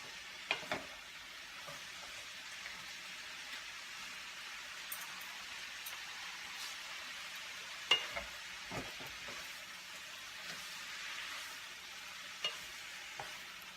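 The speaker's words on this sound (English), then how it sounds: "Stirring away." Vegetables for san choi bow stirred in a hot pan, a steady low sizzle throughout with a few sharp scraping clicks and knocks of the utensil, fairly quiet and without talk.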